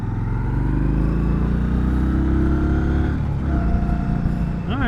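A 2020 Indian Scout Bobber Sixty motorcycle accelerates hard in second gear, its engine note rising steadily and loud up close, then dipping briefly as the revs change near the end.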